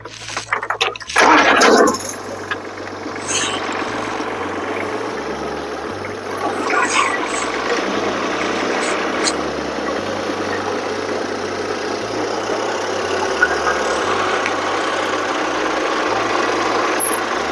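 A mini cultivator with a blade attachment runs steadily at mid throttle, its small engine chugging in a continuous near drone with a rhythmic low pulse after a brief louder start.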